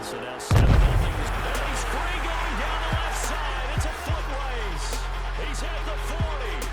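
An explosion sound effect edited into Madden 22 football video game footage: a single loud, heavy burst near the start, followed by steady game sounds with voices underneath.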